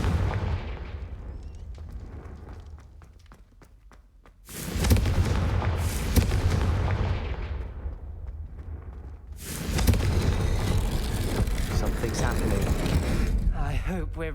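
Confringo blasting spell explosions in the Hogwarts Legacy video game, loud booming bursts that hit around the middle and again near the end, each decaying into a long rumbling roar over game background noise.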